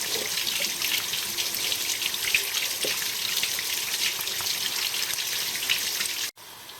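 Water rushes steadily through the radiator of a Mercedes 280E during a flush, a continuous hissing, splashing flow that cuts off abruptly near the end.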